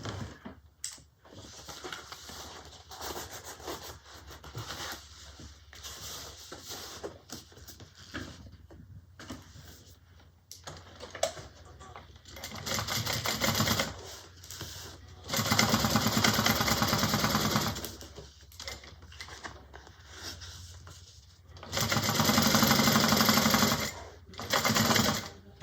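A sewing machine top stitches a bag seam, with the seam allowance pressed toward the lining, during the making of a Destiny Bag. It comes in several steady mechanical runs of varying length, separated by quieter pauses.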